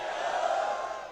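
Crowd at a political rally in Baytu shouting a sustained chant together, a loud blended roar of many voices held for a moment before easing off.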